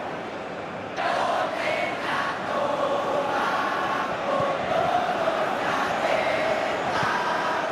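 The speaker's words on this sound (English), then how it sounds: "We have a hugely expectant crowd here." A stadium crowd in a football video game, with Indonesian Super League clubs playing: the broad roar of a large, expectant crowd swells and holds steady, with chanting and cheering rising and falling throughout.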